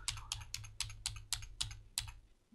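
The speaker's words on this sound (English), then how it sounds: "we'll use the left arrow key on our keyboard, and we'll just press it 20 times basically" The left arrow key on a computer keyboard is pressed repeatedly, giving about eight evenly spaced close plastic clicks in quick succession in a quiet room.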